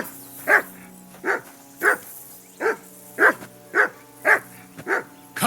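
A dog in Kingdom Come Deliverance 2, a medieval role-playing game, barks eight or nine times in a regular rhythm, near and prominent, with no speech.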